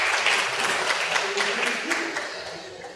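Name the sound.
audience applause at a political party event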